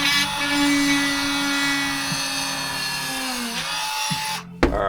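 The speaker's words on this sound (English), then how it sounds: "I use a Dremel to open it up" A Dremel rotary tool grinds steadily into a Corvette vacuum tank during a restoration repair, a loud continuous whine with slight pitch dips that cuts off abruptly near the end.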